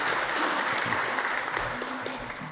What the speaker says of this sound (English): if you could leave your applause to the end of the participants